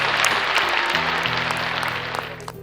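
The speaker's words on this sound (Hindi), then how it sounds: "राहुल बाबू के लिए जोरदार तालियां।" An audience claps steadily at the Green Cinema Awards 2025, a Bhojpuri film awards show, as a dense wash of applause continues over soft background music and tapers slightly toward the end.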